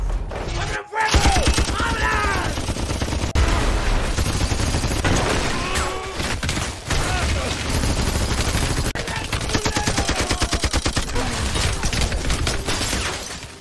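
In an action-film shootout, Ramos's cartel group fires automatic weapons in loud, rapid bursts of gunfire, with sharp cracks and impacts through most of the scene and shouting voices in between.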